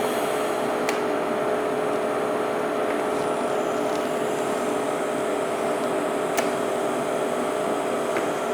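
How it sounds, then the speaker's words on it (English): TIG welding a motor mount, a steady hiss with a constant fine electrical hum running evenly throughout, broken by a few faint clicks. "and let's start welding"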